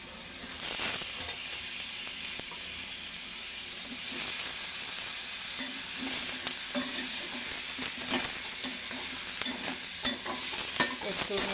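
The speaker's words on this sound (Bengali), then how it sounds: "এখন যে মাছগুলো কেটে ধুয়ে রেখেছিলাম সেগুলো দিয়ে দিলাম।" Washed fish pieces fry and sizzle in a hot pan, a steady close hiss broken by repeated scraping stirs and soft clinks throughout, with no talking.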